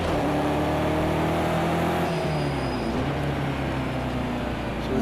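A BMW M6 GT3 race car in Project Cars 2 at Brands Hatch on cold tyres, its engine a loud, steady drone that holds a high pitch and then drops slightly as it eases through a corner.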